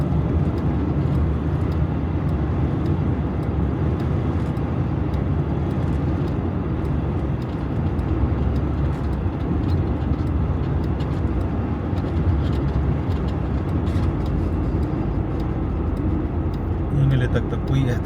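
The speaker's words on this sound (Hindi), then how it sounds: "रोडों पर ट्रैफिक की रवानी जारी है।" Road traffic flows steadily through a city street near Kashmir Chowk, a continuous broadband rumble of passing vehicles that stays loud and even for the whole stretch, with no clear speech.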